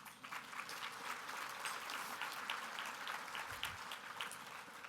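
Steady applause from the audience at a women's leadership luncheon keynote, a dense, even wash of many hands clapping that holds at a constant level for the whole stretch, with no voices over it.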